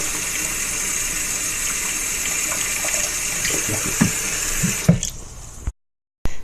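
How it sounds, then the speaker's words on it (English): Hot water runs steadily from a faucet in a loud, constant gushing stream, then a few clunks and splashes before it cuts off into brief silence, followed by a short clatter. "Faucet water is fine. Just make sure it's at its hottest setting or around there."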